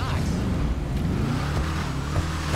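A modified Bravado Gauntlet Interceptor muscle car engine in a video game drones loudly and steadily, with a rough low rumble that holds throughout the stretch.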